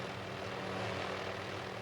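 A helicopter flying from Juneau toward Admiralty Island, Alaska, heard as a steady, dense rotor and engine drone with no variation in loudness and no voices.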